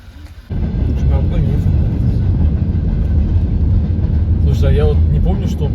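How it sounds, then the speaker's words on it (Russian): A car crossing a bridge alongside a passing train, a loud steady rumbling roar that swells in after a moment and holds, with people talking inside the vehicle over it. "я вот не помню, чтобы я вот так ехал по мосту вместе с поездом"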